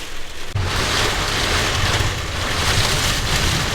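Heavy rain pours down loudly and steadily on the salt flats, a dense continuous hiss that starts abruptly and keeps going without a break.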